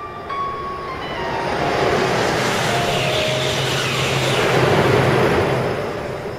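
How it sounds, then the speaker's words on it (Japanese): An E3 series Shinkansen runs alone past the listener. A broad, swelling roar rises and fades, and a steady motor whine runs through it. "これはね、E3 系の単独の走行場面なんですが、"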